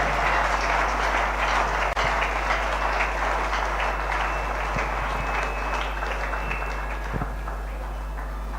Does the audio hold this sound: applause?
yes